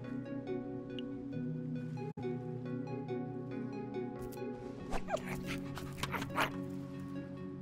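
A dog in the video game Minecraft Story Mode yips and pants over a sustained musical score, with a short burst of excited barking and sniffing sounds toward the end, close and fairly soft.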